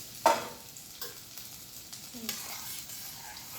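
Onion frying in oil with curry leaves gives a soft, low sizzle, broken by a few faint clinks and stirring scrapes, with quiet sounds in the background.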